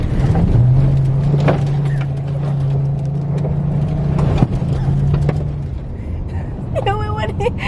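Volkswagen Passat engine held at full throttle while mudding, a loud steady drone under splashing and cabin noise, with people talking over it and a sharp knock near the end.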